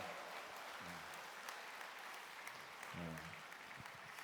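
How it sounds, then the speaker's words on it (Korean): A church congregation applauds the pastor, a steady wash of clapping heard faint and distant, with a few voices briefly surfacing underneath. "명노철 목사님께 다시 한번 뜨거운 감사의 박수를 드리겠습니다"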